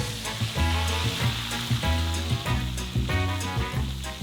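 Salted mong fish sizzles loudly as it fries in hot oil. The steady crackle carries on throughout with no voices.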